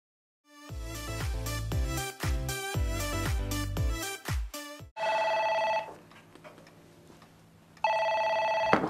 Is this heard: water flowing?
no